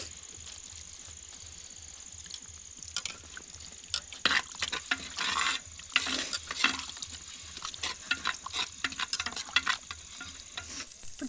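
Chicken fries in a pan while being stirred, with a low sizzle under repeated clattering scrapes and wet stirring sounds that grow busier and louder toward the end.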